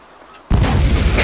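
A grenade detonates in the DayZ Standalone video game, a sudden loud boom that cuts in after near-silence and rolls on as a sustained, broadband roar with crackling debris through the rest of the moment.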